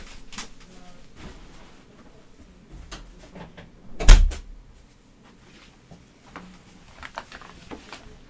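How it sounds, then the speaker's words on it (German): A door pushed shut indoors gives one sharp, fairly loud thud near the middle, set against quiet room noise with scattered faint knocks and rustles. "Ich mache mal die Tür zu."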